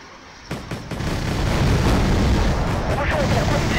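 Artillery in the real-time strategy game Wargame: Red Dragon opens fire with a few sharp booms, then swells into a loud, continuous rumbling barrage that holds steady to the end.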